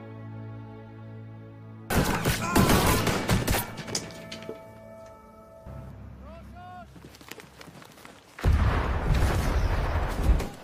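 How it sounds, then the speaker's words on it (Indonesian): World War I film battle between German and American troops, with bursts of gunfire and explosions alongside an ammunition depot blast; loud barrages give way to quieter stretches, with a narrating voice speaking over parts of it. "pasukan Perry terlibat pertempuran dengan pasukan Jerman sebelum berhasil meledakkan gudang amunisi musuh"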